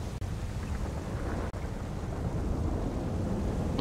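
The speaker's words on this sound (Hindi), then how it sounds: "देखें कि कितनी बारिश हो रही है" Steady heavy rain in the video game GTA 5 roars in a dense, unbroken wash of noise, with a low rumbling undertone and no voices.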